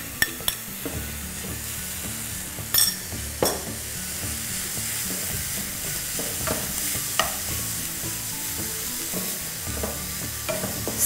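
Potatoes fry in a pan with French beans and capsicum while being stirred, producing a continuous sizzle broken by sharp utensil scrapes and clacks against the pan at irregular intervals.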